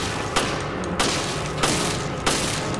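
Four evenly spaced heavy shots ring out from a weapon in the survival-horror game Resident Evil: Revelations, each a loud, close boom over a steady rumbling background with no talking.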